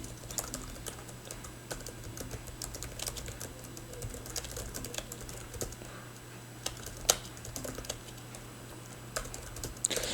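Computer keyboard typing a commit message in a code editor, a steady run of fast, fairly quiet keystrokes over a low steady hum, with a few louder key hits and no talking.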